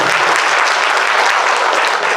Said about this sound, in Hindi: मैडम के लिए तालियां बजा दीजिए।